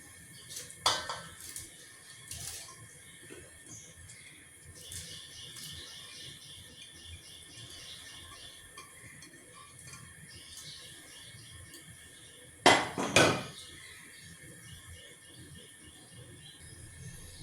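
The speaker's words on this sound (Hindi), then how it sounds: "ये सब डाल दिए, अच्छी तरीके से इसको मिक्स कर देती हूँ।" Soaked rice goes into milk in a metal pot for kheer and is stirred, giving a few short, clattering clanks of spoon on pot, loudest near the end, over quiet background cricket chirps.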